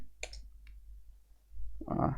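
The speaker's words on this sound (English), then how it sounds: "I'm typing a lot of mistakes." Sparse keyboard clicks, a few quiet isolated taps, followed by a brief burst of speech.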